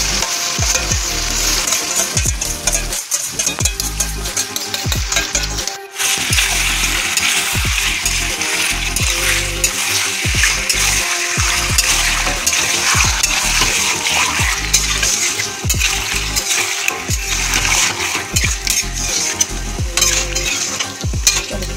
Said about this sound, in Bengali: এখন দেবো না, ভালো করে কষা নেবো, তারপরে ঢাকা দেবো।